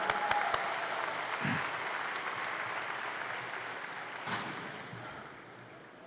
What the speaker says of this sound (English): Please applaud them for that.